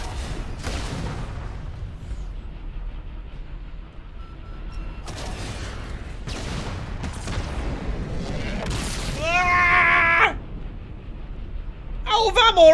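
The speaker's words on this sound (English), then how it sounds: "What's going on with the explosion sound effects in this?" Muffled booms and bursts of gunfire from Halo 2 Anniversary combat come in irregular clusters, with explosion sound effects that seem to glitch, under a person talking throughout.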